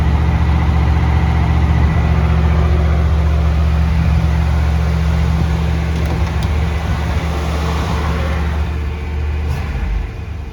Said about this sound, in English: Nothing like the sound of a big block in the morning.